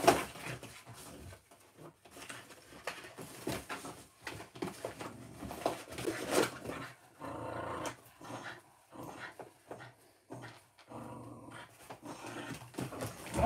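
A dog growls in bursts while playing with a box, with rustling, scraping and shuffling between the low, throaty rumbles, close by.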